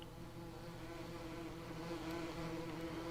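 A short stretch of constant, close bee buzzing from hives in Farming Simulator 19, a steady insect drone with no voices over it.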